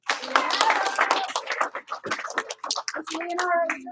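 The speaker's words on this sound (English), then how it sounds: "Give them 1 clap, 2 claps." A group of children clap their hands in quick rounds, sharp claps mixed with excited children's voices talking and calling out nearby.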